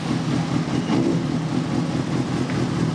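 An old motorcycle engine from 2005 runs smoothly at a steady idle, a low continuous rumble at constant loudness with no voices over it.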